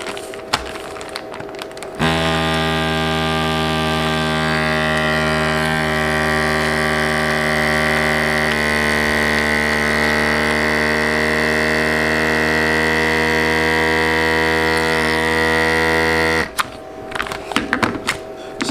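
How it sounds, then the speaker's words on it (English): A Food Saver rechargeable handheld vacuum sealing a bag for homemade deer jerky gives a steady, loud motor hum lasting about fourteen seconds, then cuts off sharply. Handling noises can be heard before and after it. "So, have these Food Saver vacuum seal bags, Food Saver rechargeable handheld vacuum, and just close it up."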